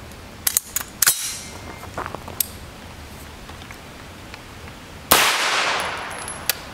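A single 9x19mm Norma 108-grain monolithic hollow point round fired from a 200 series Resolute carbine with a 1-in-10 twist barrel and factory muzzle brake. A few soft clicks come first, then one loud, close, sharp shot with a short decaying tail.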